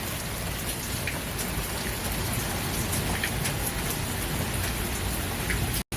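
Heavy rain pours onto a rooftop in a loud, steady, unbroken hiss of dense drops, close by and continuous throughout.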